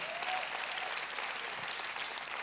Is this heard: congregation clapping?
yes